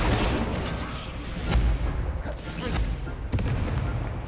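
Spell effects in the video game Hogwarts Legacy, with dense, heavy booming and rumbling blasts that roll together in a loud continuous barrage, marked by a few sharper thumps.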